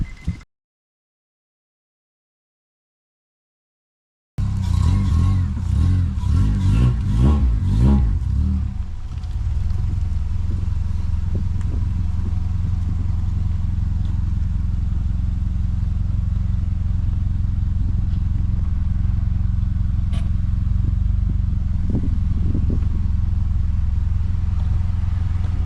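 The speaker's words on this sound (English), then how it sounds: "We're gonna turn the car on, and we're gonna take it out the driveway." An Acura RSX engine starts up and idles with a steady low rumble after an axle replacement, following a brief silence and a short rough revving at start-up, close and continuous in rainy weather.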